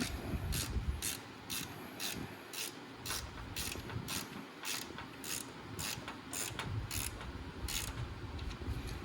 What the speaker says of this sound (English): One of these little handy small ratchets allows you to get in there if you want a shallow